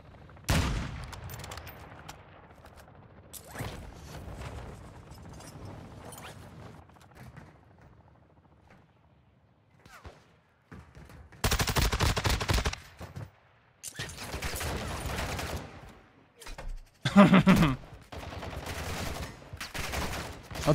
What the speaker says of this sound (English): I'm getting sniped at again.